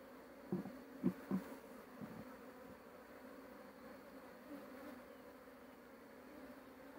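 Honeybees buzz faintly around a hive on a quiet day while a frame is lifted out to check a newly accepted queen. The hum is low and steady, with a few louder passes from single bees early on.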